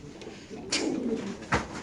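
Racing pigeons cooing at a pigeon farm, with a couple of soft, brief coos close by over low background murmur.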